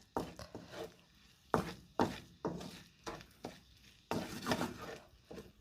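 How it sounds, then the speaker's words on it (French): Scrambled eggs being mixed into rice in a pan for Thai shrimp fried rice: a series of soft, uneven knocks and scrapes of a utensil against the pan, quiet and close. "Je viens les mélanger à mon riz."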